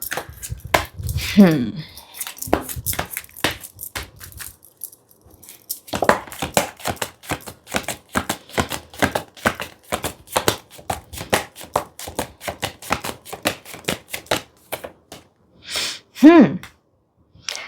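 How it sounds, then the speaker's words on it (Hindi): Tarot cards are shuffled and drawn close by in rapid runs of crisp clicks and flutters. Brief pauses and a few breathy sounds break up the runs. "पहले हम सारे टेरो कार्ड्स निकालेंगे, फिर मैं गाइडेंस दूंगी आपको ऑरेकल कार्ड से।"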